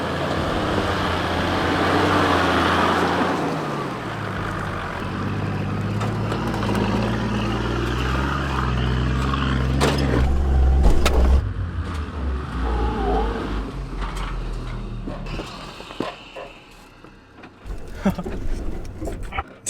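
4x4 with its locker engaged climbing a steep off-road hill, a loud, close engine drone rising and straining, with thumps and rattles toward the end.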